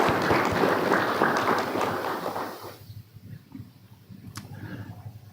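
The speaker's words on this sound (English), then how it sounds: "We'll clap for her anyway" Audience applause at a university College of Health and Human Services student scholarship reception, a dense burst of clapping from a crowd in a hall that fades after a few seconds into quieter room noise.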